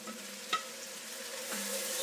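Beef and bacon stirred together in a pot for boeuf bourguignon, with a soft, steady low sizzle and a couple of brief scraping stirs, fairly quiet and close with no talking.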